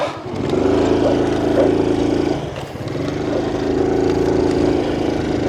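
A tiny motor scooter engine drones steadily and strains as it pushes through deep sand, holding a continuous buzzing tone with a brief dip partway through.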